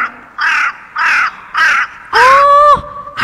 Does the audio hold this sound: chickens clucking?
no